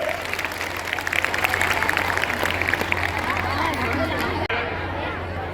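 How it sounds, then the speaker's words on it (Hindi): Students and crowd at a Republic Day function in an intercollege in Marehra, Etah, clapping and cheering loudly as one dense burst over crowd chatter, with a steady low hum running beneath, before it cuts off abruptly near the end. "जोरदार बेटा ताली बजाइए"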